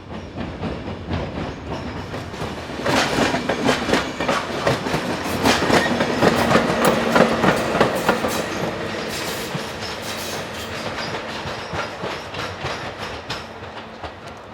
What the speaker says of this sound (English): Departing the station is the 1702 service from Wien to Graz with electric locomotive number